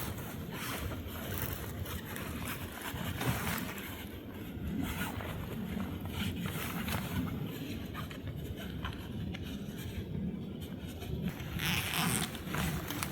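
Velcro loops are pulled and pressed shut on a canvas bell tent outdoors, a series of soft ripping and rustling strokes over steady wind noise at low level.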